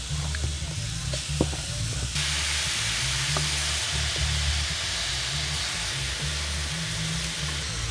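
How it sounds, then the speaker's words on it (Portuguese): Pork rib meat browning in a hot pan gives a steady loud sizzle and hiss, with a low rumbling hum underneath and a few brief clicks of stirring. "Colocar a carne agora para dourar."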